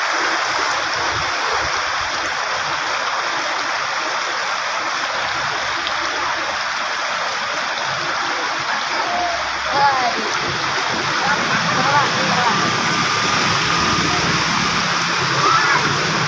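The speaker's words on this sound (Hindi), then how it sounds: "संजाबी बाजार में ज़बरदस्त पानी।" Heavy rainwater rushes through a bazaar street in Duki, Balochistan, right after a downpour: a loud, continuous hissing and splashing flow that fills the whole stretch, with faint voices and occasional clatter in the background.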